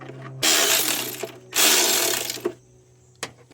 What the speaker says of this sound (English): I'm gonna remove this 10mm bolt. I'm gonna use this wobble here adapter.